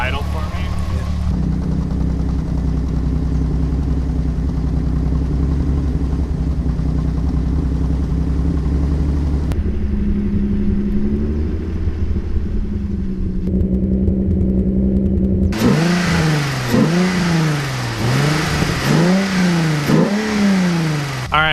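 A VR6 car engine runs steadily at idle during a Seafoam treatment, then near the end is revved repeatedly in sharp rising-and-falling bursts, loud and close by the roadside.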